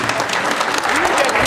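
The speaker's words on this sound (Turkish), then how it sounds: "Alkışlıyoruz." Wedding guests clap together at a ceremony, a dense steady patter of applause lasting the whole moment, with voices mixed faintly into it.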